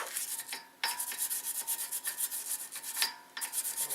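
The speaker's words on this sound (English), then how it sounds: "So now we take our wire brush." A wire brush scrubs the rear brake hub surface of a 2004 Mazda 6 in quick, close, rhythmic rasping strokes, with brief pauses between bursts; no talking.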